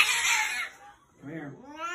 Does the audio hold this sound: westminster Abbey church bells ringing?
no